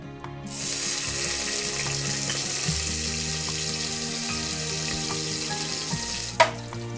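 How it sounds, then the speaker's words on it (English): Chopped garlic sizzles steadily in about four tablespoons of heated oil in a pan, a dense continuous hiss with a faint clink near the end, close and without talk. "As soon as the oil is a little heated up, we can put the chopped garlic."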